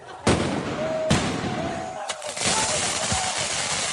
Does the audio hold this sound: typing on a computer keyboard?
no